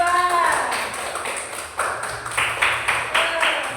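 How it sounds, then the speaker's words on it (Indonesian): A small group claps for a classroom group, with light, scattered hand claps close by and a voice speaking over them. "tepuk tangan untuk kelompok 2"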